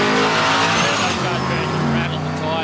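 Early Holden Commodore drag cars, a VH against a VK, at a raceway start line: a loud engine roar with tyre squeal and skidding at launch, and a commentator talking over it.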